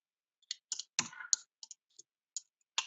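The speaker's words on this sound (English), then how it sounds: "We're going to retype the link." Typing on a computer keyboard while retyping a link, heard as a string of separate sharp clicks and key taps with uneven spacing and a brief cluster of heavier presses, close and alone.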